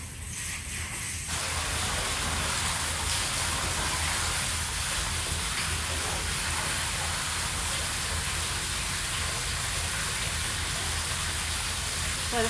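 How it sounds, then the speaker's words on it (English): Rain falls on a greenhouse in a continuous dense hiss, loud and even from start to finish, with no voices. "Can you hear that? It's raining again."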